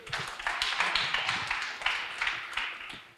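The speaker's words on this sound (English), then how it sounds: "let's give him a round of applause" An audience applauds at a talk, a steady patter of many hands clapping at close to moderate distance, with rhythmic bursts that rise and fall and no voices over it.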